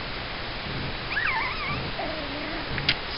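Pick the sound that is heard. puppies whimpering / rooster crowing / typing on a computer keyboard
puppies whimpering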